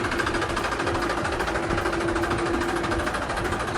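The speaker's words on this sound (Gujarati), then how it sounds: "આ ટ્રેક્ટરનો તમે એન્જિનનો અવાજ સાંભળી લ્યો મિત્રો આ ટ્રેક્ટરનો અવાજ આ પ્રમાણે છે" A Massey Ferguson 1035 DI tractor engine runs close by, with a steady, rapid, rhythmic chugging that holds even and loud throughout, with no talk over it.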